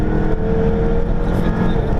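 A Jaguar F-Type coupe's engine hums steadily under light throttle from inside the cabin, a loud continuous drone with no talking over it.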